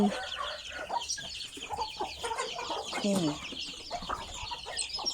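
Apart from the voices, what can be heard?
native chickens and fighting cocks clucking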